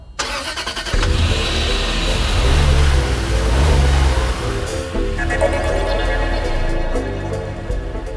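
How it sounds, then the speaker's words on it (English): A car engine turns over near the start and then revs loudly, holding a steady drone with rises and falls for several seconds, alone with no talk. "start the car."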